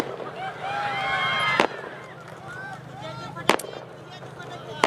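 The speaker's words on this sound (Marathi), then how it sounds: "हे ते फटाके जरा" Firecrackers go off at a Shiv Sena political rally in Umarga, Dharashiv, giving two or three sharp, loud bangs amid crowd noise and faint voices.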